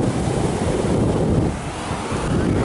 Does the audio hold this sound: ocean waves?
yes